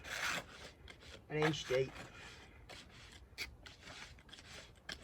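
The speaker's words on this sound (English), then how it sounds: "we're just using a tuck pointer here, or a finger trowel they're called" A tuck pointer, or finger trowel, scraping along mortar joints in a cottage garden landscaping job, with short rasping strokes close by and someone speaking briefly between them.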